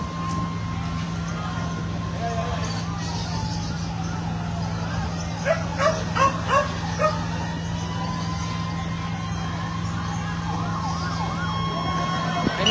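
Fire truck siren wailing during a fire at a residential compound in Las Piñas City, steady and fairly distant, with dogs barking briefly midway and people shouting nearby.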